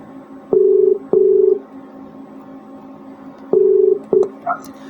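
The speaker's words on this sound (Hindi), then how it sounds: "ये आपके सामने फोन की घंटी बज रही है" Electronic telephone ring tones chirp in short bursts, two pairs separated by a pause, fairly loud over a quiet background hum.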